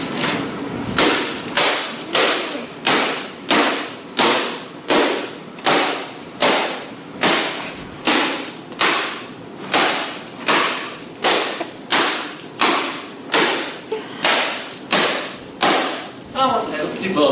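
Hammer smashing a laptop, around twenty hard blows in a steady rhythm roughly one per second, each a loud close crack and thud.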